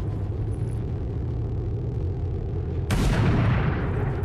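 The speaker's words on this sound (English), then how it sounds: "Alright, sniper triggered" A single sniper rifle shot in the strategy game XCOM 2, a loud sudden crack about three seconds in that rolls into a booming tail over a low ambient hum.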